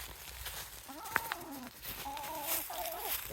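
Backyard chickens near a fruit-tree planting give a few soft, quiet clucks and short murmuring calls over faint outdoor background, with a small sharp click in the middle.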